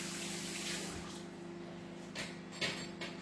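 Hands being washed under a running kitchen tap, a steady close stream of water with light splashing as the hands move beneath it.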